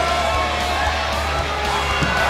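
A virtual arena crowd in the WWE 2K20 wrestling game reacting to Daniel Bryan, a constant loud wash of cheering and shouting with no breaks across the short stretch.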